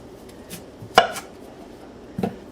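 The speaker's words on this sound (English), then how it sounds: "By whacking it up into chunks, like about that big." A knife chops a potato into chunks on a board: a few separate close thunks, one sharp and loud, with quieter knocks around it and a final pair of softer cuts over low room noise.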